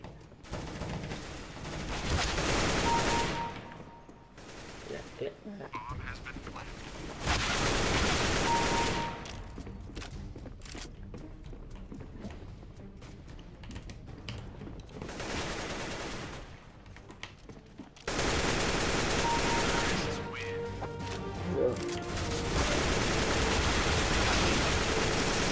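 Bursts of automatic and rapid gunfire from Counter-Strike: Global Offensive gameplay, dense crackling volleys that come in long, loud stretches with shorter gaps and scattered single shots between them.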